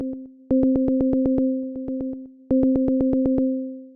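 A Padshop 2 synth arpeggiator plays a 16-step phrase of crisp, evenly spaced staccato notes on a bright tone. Short pulses run in quick bursts and phrases, sounding clean and close with no voices.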